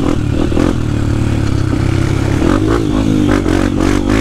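A dirt bike engine revs hard in deep mud during a big trail ride in Pernambuco, loud and close, with throttle surges, rattling and scraping as the wheel churns.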